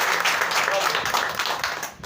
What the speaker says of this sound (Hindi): तो एक बार ताली बजा के बताओ देखे जो।